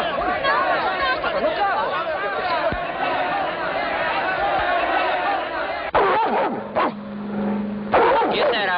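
A dog barks repeatedly amid lively crowd chatter on a children's storytelling show set in a museum, the barking mixed closely under overlapping voices throughout.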